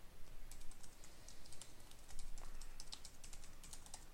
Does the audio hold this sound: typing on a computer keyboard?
yes